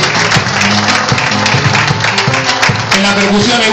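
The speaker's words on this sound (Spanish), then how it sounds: "Bien aplaudido, por el fondo." Loud, sustained audience applause fills a live music performance, dense clapping continuing steadily throughout with a low musical hum beneath it.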